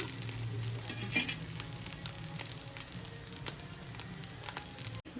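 Coconut roti frying in a little oil on a pan over low flame, a soft, steady sizzle with faint crackles and a brief clatter near the end.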